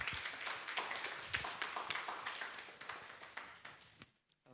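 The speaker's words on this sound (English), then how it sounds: "A round of applause." A round of applause at a symposium, with quick overlapping claps from a crowd that stay lively for about four seconds and then stop abruptly.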